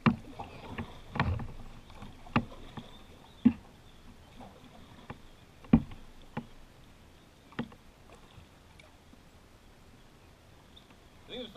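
Paddle strokes from a boat on the Juniata River: a series of soft, irregular splashes and knocks against the water, close and fairly quiet, with calm pauses between strokes.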